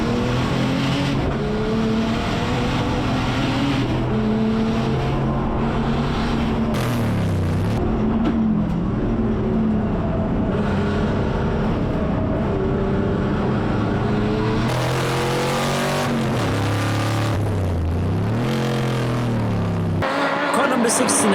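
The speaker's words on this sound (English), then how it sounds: "Car number 99 is now making a move on the inside of the 38 Cobra, but he ends up locking up his wheels" Race cars lapping the track during a four-hour endurance race, engines rising and falling as cars accelerate, brake and pass, with a commentator talking over the steady motor noise.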